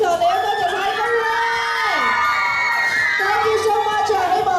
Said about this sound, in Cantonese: 俾啲掌聲 Belinda 啦！